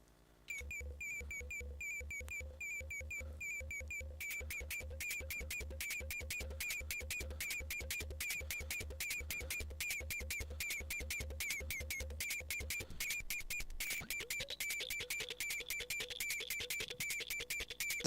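Sherman Filterbank modular distortion shaping a repeating electronic pattern of short, sharp pulses at a steady tempo, growing denser and brighter partway through, with no voices.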